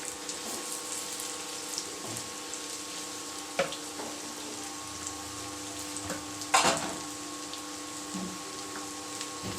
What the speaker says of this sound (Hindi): ऑयल गरम हो चुका है। अब हम इसमें शामिल करेंगे भिंडी और इसको करेंगे फ्राई।